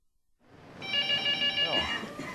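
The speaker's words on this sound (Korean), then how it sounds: "끊임없이 전화벨이 울리는 사랑의 장기기증 운동본부 사무실." A telephone rings with a bright, repeated electronic trill, joined by voices talking in the background of a busy organ donation campaign office.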